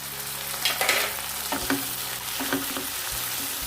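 Onions and tomatoes frying in a pan for a restaurant-style paneer masala: a dense, steady sizzle close by, broken by a few spatula scrapes and soft knocks against the pan, no talking.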